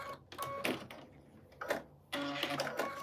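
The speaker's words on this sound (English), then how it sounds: "And I am going to sew a 1/4 inch, right, on the far right, and then on the far left corner." A sewing machine sews pieced quilt scraps in short quick runs of stitching separated by pauses, close and moderately quiet.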